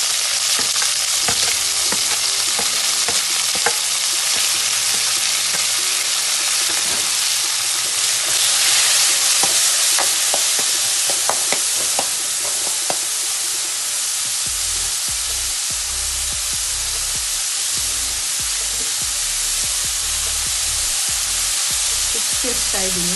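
Tomatoes fry in a hot pan for masoor dal, giving a loud, continuous sizzle with bursts of crackle and steam, while a spoon stirs and scrapes now and then against the pan.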